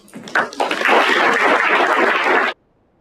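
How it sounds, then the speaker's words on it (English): A conference audience breaks into a round of applause, a dense wash of many hands clapping steadily for about two seconds before it stops abruptly. "Another big round of applause for Mashovani."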